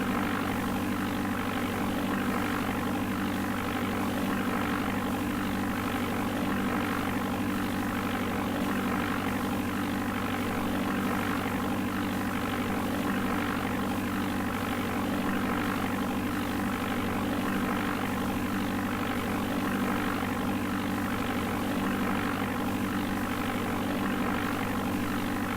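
A propeller aircraft engine in the DOS game Flight Simulator 4 at Eastern Iowa Airport, a constant synthetic droning hum with steady tonal layers, loud and unchanging for the whole stretch, no voices.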